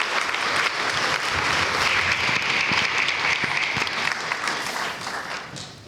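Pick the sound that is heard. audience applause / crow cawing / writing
audience applause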